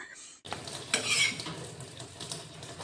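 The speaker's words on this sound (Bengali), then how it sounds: "দিয়ে এটা পরোটাটা ভেজে নিব কম তেলে" Spinach paratha frying in a little oil on a hot tawa, a brief silence then a close, moderate sizzle with a sharper hiss burst and light utensil scraping.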